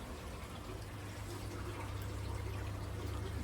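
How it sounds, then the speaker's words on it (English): Water flowing from a header tank down a line into the top of an aquarium sump for cherry shrimp, a steady, continuous trickling wash with a low hum underneath, unbroken throughout. "That header tank then flows down this line into the top of the sump."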